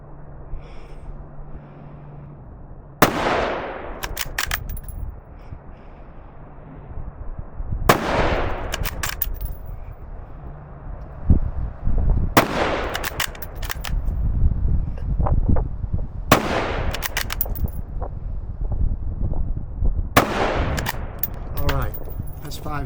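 A Ruger Mini 14 rifle in 5.56 fires five sharp, loud shots spaced a few seconds apart, each crack trailing off into outdoor echo over steady background noise.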